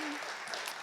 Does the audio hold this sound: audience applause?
yes